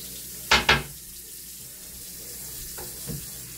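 Tap water runs steadily while aquarium decoration stones are washed, a continuous soft hiss broken near the start by two sharp knocks and later by a fainter clack.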